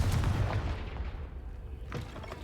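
Rumbling blasts from the Confringo fire spell in the Hogwarts Legacy video game, a dense run of booming hits with crackling debris, loud and close, with no speech.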